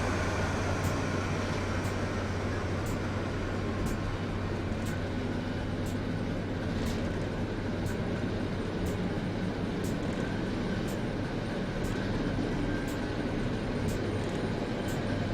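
A Class 73 locomotive in BR Blue pulls away on the Chatham Mainline in Train Simulator 2016, a steady low rumble and hum of traction with faint regular clicks running throughout, no voices.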